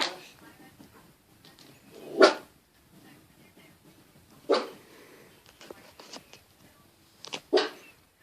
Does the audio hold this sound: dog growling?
yes